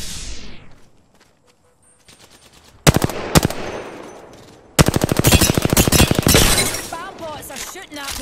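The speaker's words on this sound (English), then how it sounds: "Bomb bots are shooting at me." Bomb bots open fire in a shooter video game, sending rapid machine-gun bursts and crashing impacts that grow loud and dense in the second half, with sharp shattering hits mixed through the volley.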